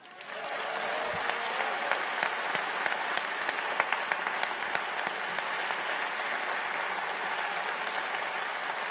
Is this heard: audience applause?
yes